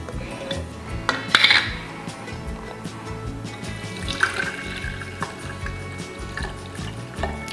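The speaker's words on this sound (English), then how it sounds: "we're gonna pour this in here." Steeped herbal tea for a homemade bug spray is poured through a strainer and funnel into a jar, giving close, steady liquid trickling with sharp clinks and rattles of glass and metal.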